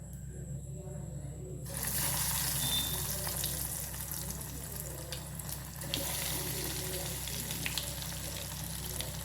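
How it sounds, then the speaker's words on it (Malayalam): Breaded sweet potato cutlets frying in hot oil, giving a steady, dense crackling sizzle that holds loud and close throughout with no pauses. "ഇനി നമുക്കിത് എണ്ണയിൽ പൊരിച്ചെടുക്കാം."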